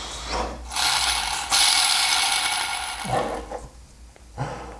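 A harsh, continuous mechanical grinding and rasping from a worn chain tensioner bearing on a 1.9 engine from a Peugeot 205 GTI, loud and steady for several seconds, then easing off into scattered clicks and knocks.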